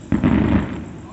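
Fourth of July fireworks at Marina del Rey burst with a sudden deep boom, followed by a short rumbling crackle that trails off within a second.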